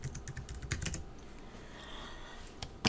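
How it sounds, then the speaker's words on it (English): Quick, light clicking of keys on a computer keyboard as a short phrase is typed, a rapid burst of taps followed by a pause and a final keystroke, close and fairly quiet. "I'm going to type in I love crafting."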